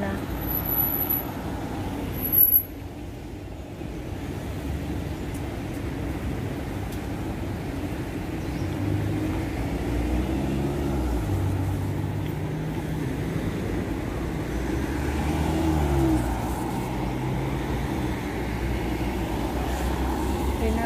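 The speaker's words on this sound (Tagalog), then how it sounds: "Traffic natin sa kabila." Street traffic rumbles past at a Hong Kong market, a continuous low engine drone from buses and trucks with a brief louder bump early on, while people talk faintly in the background.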